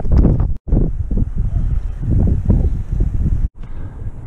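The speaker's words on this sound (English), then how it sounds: "Been another question of dodging the wind today" Strong wind buffets the microphone on a Northumberland coastal path, a loud continuous low roar and rumble with brief gusty dips, heard alone without voices.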